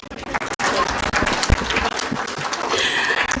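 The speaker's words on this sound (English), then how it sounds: "You can clap for me." Audience applause at a conference on transforming a nation, a dense, steady wash of clapping that holds loud and even for a few seconds with no break.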